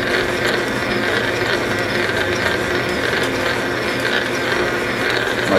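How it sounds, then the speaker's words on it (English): Old lathe boring out metal hinge parts that fit over a hinge pin, a steady mechanical whirring and rattling clatter, fairly loud and continuous throughout. "I'm boring out these hinge."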